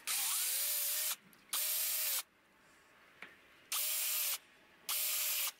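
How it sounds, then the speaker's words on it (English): A power drill whirs in four loud bursts of about a second each while drilling wire holes in a solar junction box, winding down at the end of each run, with quiet pauses between. "drill some wire holes and run the wires out"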